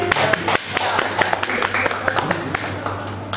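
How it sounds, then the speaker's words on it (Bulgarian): Applause from an audience at a book discussion, sharp claps scattered fairly close over a low steady hum, with talk running alongside the clapping. "Ръкопляскайте!"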